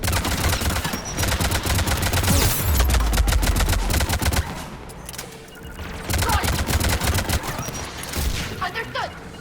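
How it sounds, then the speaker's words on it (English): Geth anti-aircraft guns in Mass Effect 3 pounding away, dense rapid automatic fire in a continuous loud barrage with heavy low booms throughout, briefly easing midway before resuming. "Geth anti-aircraft guns are up ahead."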